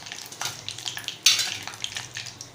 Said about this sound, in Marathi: याच प्रकारे आपण दुसरे मशरूमही तेलामध्ये फ्राय करून घेऊया